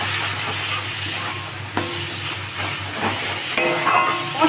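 Salt, chilli, turmeric and cumin powders are stir-fried with small morola fish in a pan, a moderate sizzle and hiss with occasional scraping clinks of a spatula.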